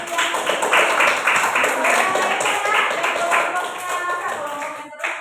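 Classroom applause for a student group after a lesson on Muslim scientists, a dense steady patter of many hands clapping close by for several seconds, with voices mixed in.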